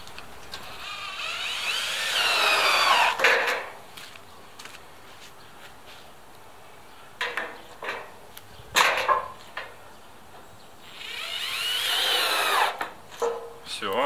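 A power tool cuts a homemade house number sign in two loud whining bursts, one at the start and one near the end, separated by quieter handling knocks and shuffling.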